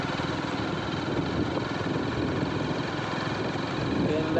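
A motorbike engine idles with a steady low rumble and vibration, fairly quiet and constant, with faint background noise.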